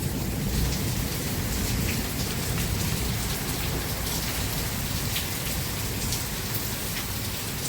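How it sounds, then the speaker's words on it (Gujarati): Heavy storm rain pounds down on a rural yard, a loud, constant hiss and patter of drops on surfaces, steady throughout. "વરસાદ ચાલુ થઈ ગયો છે, પવન જ એટલે વરસાદે બહુ ચાલુ થઈ ગયો છે."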